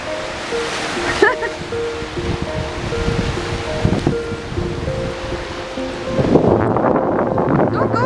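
Steady wind roars over rough waves churning on an open lake, a broad continuous rush with occasional gusts.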